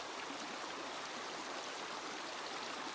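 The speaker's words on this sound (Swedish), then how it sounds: "Ljudet som bäcken gör är porlar." A small stream babbles over stones on a snowy winter walk in Duved, a steady, soft, even rush of trickling water with no breaks and no voices.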